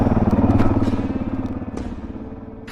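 A Suzuki DRZ400 dirt bike with 15/38 gearing chugs at low revs over rocky single track, its single-cylinder engine pulsing in a close, loud, rhythmic thump that fades slightly, with occasional clatter of rocks under the tires.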